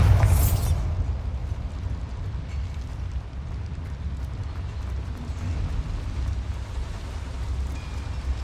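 A Bombarda spell explodes in a Harry Potter video game. It lands as a loud, sharp blast at the start, then a long low rumbling tail of debris and ambience that continues steadily with no talk.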